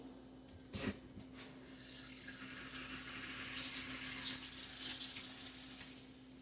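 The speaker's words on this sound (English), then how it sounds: "we're going to be adding 1 cup of water for the moment" Steady rushing of water pouring continuously into a pan of chicken thighs, baby potatoes, carrots and peas, preceded by a brief clank, with no talking.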